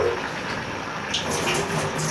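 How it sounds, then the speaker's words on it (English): Water is poured from close by into a pot of carrot and beetroot soup, giving a continuous gushing splash that swells slightly near the end. "I'll just add a little bit of water"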